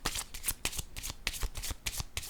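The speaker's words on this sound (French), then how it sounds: "Je vais déposer une carte pour ces trois-là." Tarot-style cards being handled and laid down during a card reading; a fast, close run of crisp papery flicks and slaps, loud and rhythmic, with no talking.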